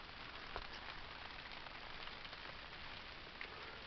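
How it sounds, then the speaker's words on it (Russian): Light rain falls steadily outdoors over a garden of seedlings and flowers, a soft even patter with a few faint close drops, quiet and continuous with no voices. "Сегодня вот дождик."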